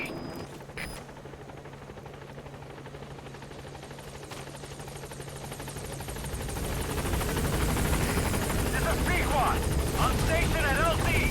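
Pequod, the helicopter in a video game, arrives at a landing zone with a steady rotor drone that grows louder and closer toward the end, while a voice talks over it.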